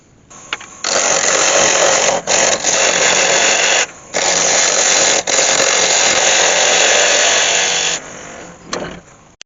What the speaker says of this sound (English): I'm just going to go in there with a parting off tool, just to take it down to the size of that chuck.